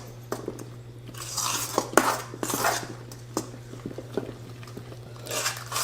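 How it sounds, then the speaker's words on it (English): Fall treat batter stirred in a bowl with a utensil, a series of close clinks and scraping knocks against the bowl over a steady low hum, no talking. "we're just gonna stir to combine it"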